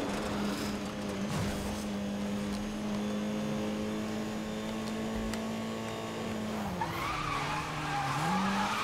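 Race cars skidding in Need For Speed Most Wanted 2012, a loud sustained tire squeal with engine drone that holds steady and then rises in pitch near the end, with no speech.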